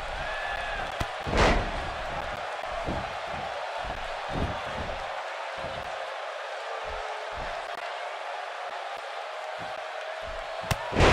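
A wrestler is slammed to the mat in the WWE 2K wrestling video game, landing as one heavy thud early on, followed by lighter impacts and a constant crowd roar.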